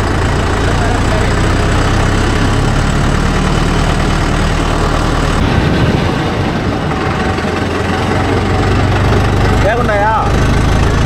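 A Mahindra Yuvo Tech Plus 585 4WD tractor's engine runs in a steady, loud, low rumble on a farm field, while people talk over it.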